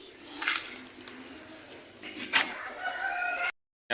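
A pet rooster crows loudly and nearby chickens cluck in short bursts, all close up, before an abrupt cut to silence.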